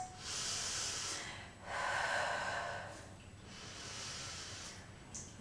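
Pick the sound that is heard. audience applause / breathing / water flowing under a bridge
breathing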